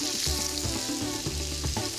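Chopped chicken and onion sizzle steadily in a frying pan while a spatula stirs and spreads them, giving a few rhythmic scraping strokes over a close, continuous hiss of frying.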